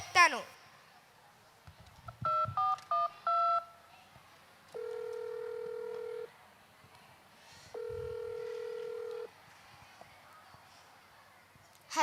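Telephone keypad dialing in a Telugu comedy skit: a quick run of several distinct keypad beeps, followed by two long, steady ringing tones with pauses between them, heard fairly clearly over a quiet room.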